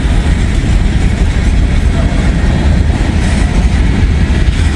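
Slow train of empty and loaded coal cars rolling by close and loud, a continuous heavy rumble with rhythmic clatter from wheels over rail joints.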